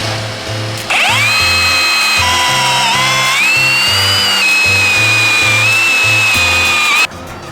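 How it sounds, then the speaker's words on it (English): A power drill with a long bit bores through a teak rail and a boat's top deck, a loud steady whine with a grinding, stuttering low rumble that runs continuously before stopping abruptly. "I got to drill a hole all the way through the teak rail and through the top deck of the boat"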